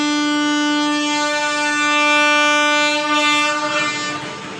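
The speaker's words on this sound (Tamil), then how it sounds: "ஷார்ப் டிபார்ச்சருங்க. நம்ம எம்ஜிஆர் சென்னை சென்ட்ரல் இன்டர்சிட்டி எக்ஸ்பிரஸுங்க." An MGR Chennai Central Intercity Express pulling out of the station gives one loud, sustained horn blast. The horn dominates the sound, and the faint rumble of the train rolling underneath grows slightly clearer as the horn fades.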